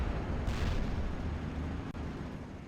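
Artillery guns fire in the World War II strategy game Steel Division: Normandy 44, a loud, continuous booming roar that rolls on without a break, with one short dip near the end.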